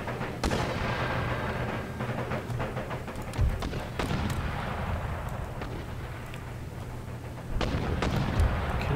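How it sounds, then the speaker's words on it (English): Foot artillery volley in the Empire Total War strategy game, a dense rumble of cannon booms and scattered gunfire thuds layered over continuous battle noise, with sharp bursts near the start and end. "So foot artillery gets into position."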